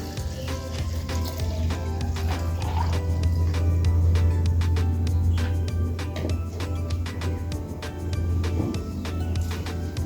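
A 50% liquid solution is poured from one container into another. A steady, fairly loud gurgling and splashing pour with a low rumbling hum runs the whole time, with dense close-up liquid clicks layered over it.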